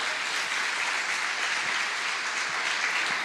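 A church congregation applauds in dense, steady clapping that fills the room evenly and continuously, moderately loud and without pauses.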